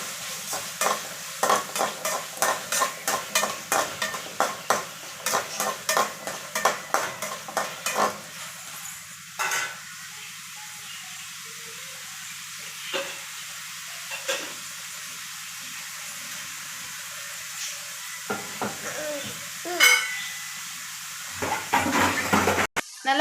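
Mutton gravy masala sizzles in a pan while a spoon stirs it in a steady series of scraping strokes, then the stirring slows to occasional clinks over a constant frying hiss.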